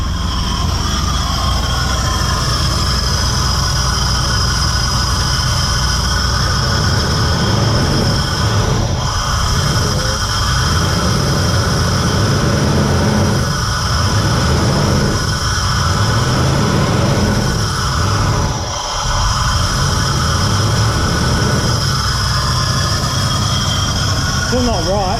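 A van engine rumbles continuously at close range, low and loud throughout, with faint voices occasionally mixed underneath.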